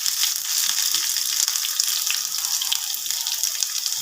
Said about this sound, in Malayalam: ഇനി നമുക്ക് കടുക് വറുക്കാനായിട്ട് കുറച്ചധികം കൊച്ചുള്ളി എടുത്തിട്ടുണ്ട്